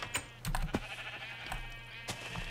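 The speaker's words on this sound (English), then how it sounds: "I don't know if there's a sheep falling down or what." Sheep bleating in the Minecraft game, a few short bleats spread over a couple of seconds against a steady low background hum, with no talking.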